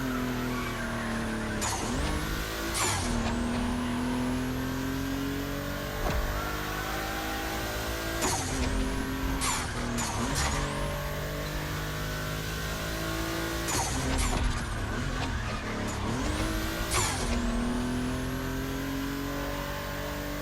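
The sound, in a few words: Volkswagen race cars on track, The Crew Motorfest video game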